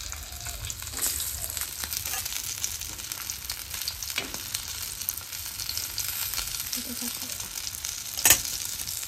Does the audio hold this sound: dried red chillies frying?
yes